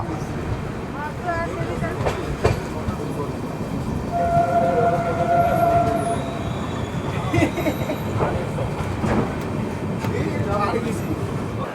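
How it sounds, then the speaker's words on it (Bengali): The Uttarbanga Express with LHB coaches departs Shamsi station, heard from inside as a steady rolling rumble with wheel clicks, a distant horn tone and occasional squeal, while people talk nearby. "শামসি থেকে আমাদের ট্রেন ছেড়ে এবারে বেরিয়ে যাচ্ছে"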